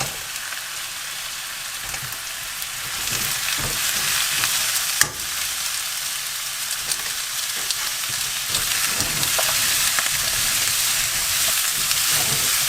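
Green pumpkin (zucchini) stir-frying in a pan, a steady broadband sizzle running the whole time with a few sharper scrapes of stirring, close and fairly loud, no voices.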